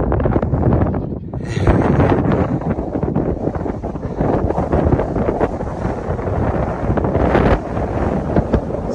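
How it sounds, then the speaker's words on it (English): Loud, gusty wind at Humpback Rocks on the Appalachian Trail buffeting the microphone, roaring steadily with stronger blasts throughout. "It's windy."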